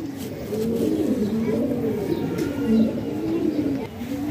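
Low, rolling coos from kabootar bazi (pigeon-flying) pigeons overlap steadily nearby, a soft continuous warble with occasional faint chirps.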